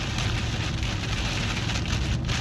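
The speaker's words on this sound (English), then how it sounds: "that rain is really, really loud." Heavy rain falls steadily and loudly, a dense, continuous hiss and patter that fills the whole clip without pause and with no voices.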